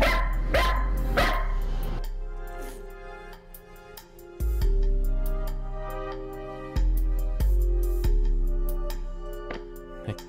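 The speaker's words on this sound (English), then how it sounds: "I need to bark until I get food." A dog barks repeatedly in a space-themed jam video game, sharp yips and barks loud and close over steady electronic game music, with a few sudden bursts standing out above the backing.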